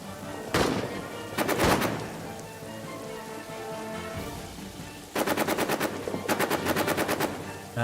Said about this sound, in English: there's another machine gun here. We have plenty of machine guns.